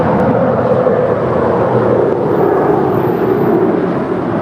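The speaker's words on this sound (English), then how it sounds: "That is an 8-year-old Boeing 747-8." A Lufthansa Boeing 747-8 arriving from Frankfurt at LAX gives a loud, steady broadband jet roar, close and continuous throughout.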